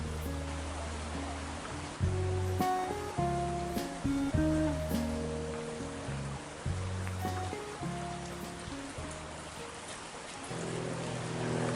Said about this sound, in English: Down below there you've got the River Smethstone